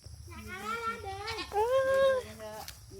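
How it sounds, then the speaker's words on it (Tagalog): A goat on a provincial farm bleats in two wavering, tremulous calls, close and fairly loud, over low background rumble, with a fainter bleat trailing at the end. "Ang aming kambing."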